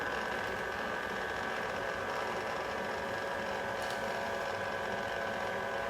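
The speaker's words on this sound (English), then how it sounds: "Turn the speed up just a little bit so that it'll puree and all blend together" A food processor purees Thanksgiving dishes in a constant, even mechanical whir that stays close and moderately loud throughout, with one faint tick partway through and no voices.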